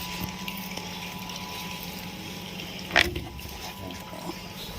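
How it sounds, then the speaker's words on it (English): Water flowing through a pipeline inspection chamber along a water collection pipe, a steady, moderate rushing flow with a brief knock partway through and no talking. "It's not so visible from outside, but the water is flowing"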